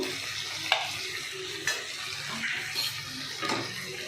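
Ginger paste sizzles and fries in a hot pan, with a soft steady crackle broken by a few sharp scraping stirs of a utensil against the metal, close up and without talk.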